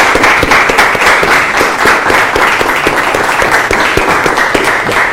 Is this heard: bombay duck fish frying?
no